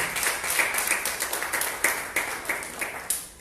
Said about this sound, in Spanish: dale un aplauso al Rey de Reyes, Señor de Señores